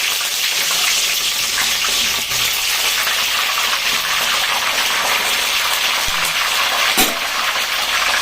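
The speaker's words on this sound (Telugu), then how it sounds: "నూనె ఎక్కింది, ఉల్లిగడ్డలు వేస్తున్నా. ఇలా కొంచెం నూనె చిలుపుంది, జాగ్రత్త." Onions hitting hot oil in a pan, a dense, loud, continuous hiss and sizzle that holds steady throughout, with a few sharp crackles and pops.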